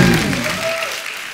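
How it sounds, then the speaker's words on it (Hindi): Studio audience applause on a Hindi comedy talk show, loud and dense at first and thinning slightly over a brief stretch, with a faint voice beneath. "एक बार जोरदार तालियां अमित जी के लिए, सुरेश जी के लिए"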